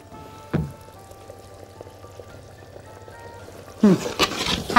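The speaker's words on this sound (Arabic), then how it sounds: "هنجيب بقى دلوقتي البشاميل اللي عندنا وهنحطه على الوش" Béchamel sauce is poured over a potato, meat and vegetable casserole, heard as a soft wet glugging and splatting that starts near the end after mostly quiet room tone and one brief knock.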